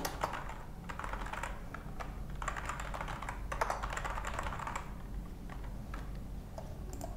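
Continuous key presses on a computer keyboard as a database query is typed, a steady run of close, crisp clicks with brief pauses and no voices.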